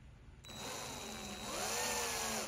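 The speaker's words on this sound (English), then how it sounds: "And the drill is gonna center in the point that was made by the bigger drill bit." Power drill drilling out a rivet, spinning up after a brief quiet start into a close, steady whine that rises in pitch as the bit bites into the metal.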